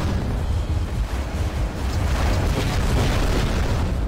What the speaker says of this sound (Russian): Скорее всего, не битва, а старание как-то избежать этих взрывов вонючих.